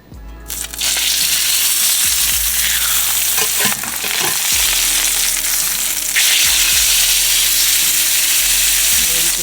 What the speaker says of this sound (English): we're gonna set the steak in away from you, and I'm gonna use rosemary, thyme, and garlic and butter.